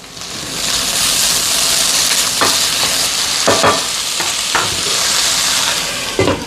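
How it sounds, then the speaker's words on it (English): Leftover ham and potatoes fry in a pan with a steady, loud sizzle and hiss, broken by a few sharp scrapes and stirs of a utensil, with no voices. "I'm going to go ahead and add our ham because we want to have the ham cook through a little bit and get it to soften up"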